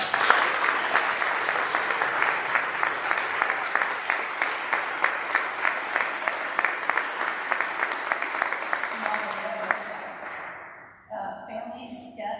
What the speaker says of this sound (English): So can we give this group another round of applause?